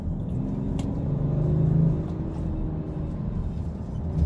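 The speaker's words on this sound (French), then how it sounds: "Le bruit le son du 6 cylindres BM, il est toujours aussi mythique qu'il soit en diesel ou en essence" A BMW six-cylinder diesel engine in a heavy car of over two tonnes rumbles steadily at close range, its low drone swelling briefly as it revs, then settling back to a constant hum with no talk.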